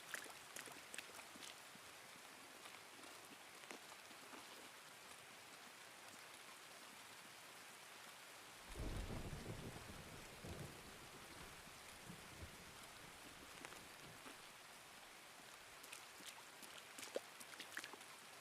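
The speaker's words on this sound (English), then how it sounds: "I'm going to hope the rain will cover the sound of my running" Steady rain hisses in the game Escape from Tarkov, with a low thunder rumble rolling in midway, all faint and continuous with no speech.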